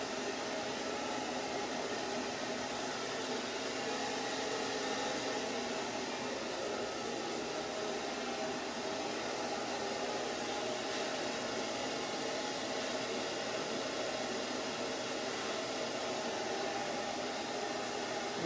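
A blow dryer runs steadily and loudly throughout, drying freshly cut short layered hair at a salon, a constant broadband whoosh with no breaks and no talking.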